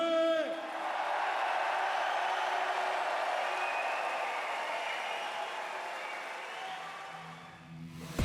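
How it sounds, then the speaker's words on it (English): Audience applause and cheering at a Timbersports team world championship, sustained crowd clapping with a few whoops, moderately distant, with a commentator's voice talking over it. "they still deserve the applause from this audience who love them"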